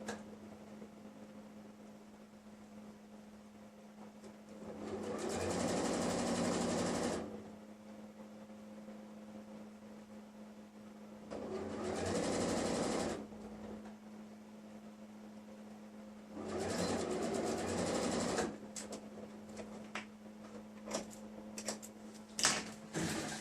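Sewing machine stitching closed the sleeve seam of an elastic-waist dress, running in three separate bursts of a few seconds each over a steady low hum, with pauses between runs.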